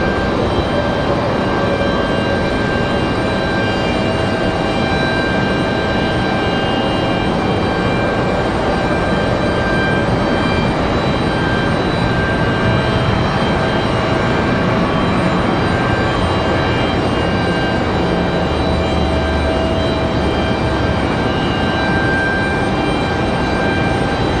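A CRJ regional jet at Raleigh Durham airport, a loud, steady broadband engine roar with a constant high tonal whine running unbroken for the whole stretch.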